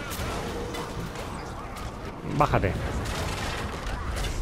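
Gunfire in the video game Sombras de Guerra, dense crackling battle noise with a brief louder burst of shots, mixed under a voice and constant clatter.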